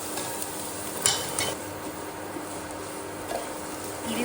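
Chili seeds and onion frying in a pan give a soft, continuous sizzle with a few light utensil taps and scrapes, fairly quiet and without voices.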